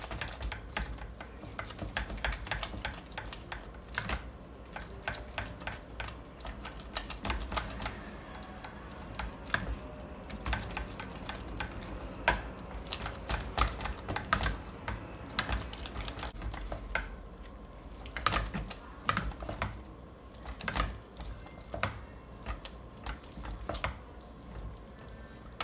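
A spoon stirs a lemon and leek risotto rapidly in a pot, giving a continuous run of quick scraping, clicking strokes with a soft background sizzle, close and steady for the whole stretch.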